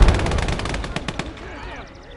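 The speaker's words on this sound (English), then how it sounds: "What have we got here? Heavy machine gun." Heavy machine gun fire in the WWII video game Gates of Hell: Red Star Rising, a loud run of rapid bursts that trails off into scattered distant shots and rumbling battle noise.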